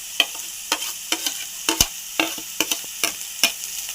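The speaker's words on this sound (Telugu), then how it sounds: "ఫ్రై చేసుకోవాలి. తర్వాత క్యారెట్ ముక్కలు, తర్వాత పచ్చిమిర్చి" Carrot pieces and green chilies frying in a pan for egg samosa filling, a soft sizzle broken by regular sharp scrapes and taps of a spatula stirring, about two strokes per second.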